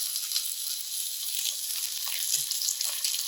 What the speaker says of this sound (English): Now we're going to cook these lemon slices for about 30 seconds.